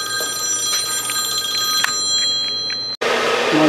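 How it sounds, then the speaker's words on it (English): A telephone rings with a repeated electronic trill over a steady background hum, then a sudden loud burst of noise cuts in near the end. "Looks like we're going to answer the phone."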